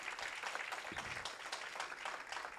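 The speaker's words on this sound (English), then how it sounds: "let's give him another round of applause." Brief burst of audience clapping at an annual general meeting, a soft, moderately dense patter of hands lasting a couple of seconds.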